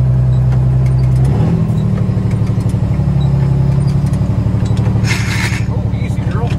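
International truck with a Detroit Diesel 6-71 turbo engine driving, a loud, close, throbbing diesel drone with a rapid pulsing beat that shifts pitch as it pulls, with a brief higher hiss near the end.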